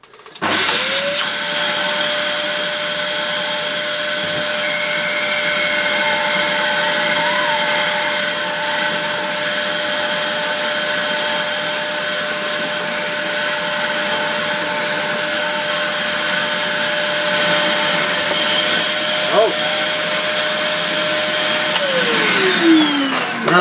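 A Dyson DC11 vacuum cleaner running: a loud, steady motor roar with a high whine that holds throughout, then winds down as it is switched off at the end.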